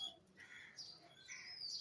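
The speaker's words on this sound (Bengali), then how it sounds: "তার আগে দেখাচ্ছি এই যে আমার কবুতর" Pet pigeons in a home coop give faint, intermittent squawks and short chirps, a few scattered calls rising over a quiet background.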